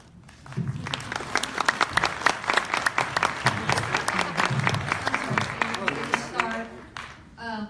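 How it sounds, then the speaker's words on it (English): An audience at a political candidates' forum in Frisco, Texas bursts into applause, a crisp, continuous clatter of many hands that swells quickly and fades near the end, with a voice breaking in at the close. "we greatly appreciate your enthusiasm, but if you could please hold your applause"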